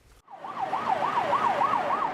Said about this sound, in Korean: 사이렌을 울리며 달리는 긴급 차량